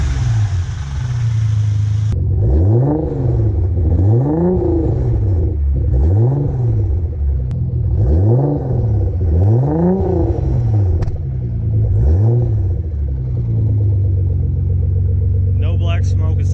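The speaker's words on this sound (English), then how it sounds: "we'll see what the exhaust sounds like" A tuned car running on E85, offered at a salvage auction, revs its exhaust after warming up: a steady idle broken by about six sharp, loud rev blips in a regular rhythm, then settling back to idle.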